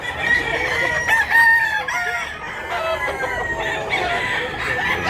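A native rooster in a rural Philippine village crows loudly and close by, with repeated crows and clucking from other fowl running throughout, steady and uninterrupted.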